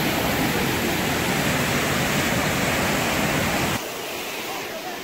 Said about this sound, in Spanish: ahí viene el río